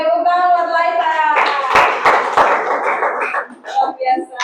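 A handful of sharp claps break out in a classroom for a student, short and uneven, mixed with overlapping voices before and after.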